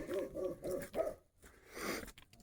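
Ronan, a dog outside at night, barks in a quick string of sharp yelps, moderately distant, followed by a short pause and a softer, breathier sound.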